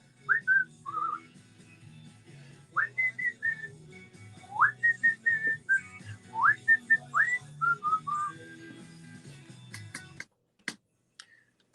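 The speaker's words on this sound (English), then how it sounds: "But I bet you can't whistle like I can." A person whistles a lively tune in short, bouncy phrases over faint background music in a live radio studio, stopping abruptly near the end before a couple of clicks.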